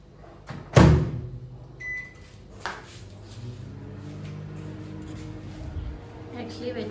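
A microwave oven set to bake at 180 degrees for 35 minutes: a loud thud and door clicks and a short beep, then a low steady hum as it runs, with people talking over it.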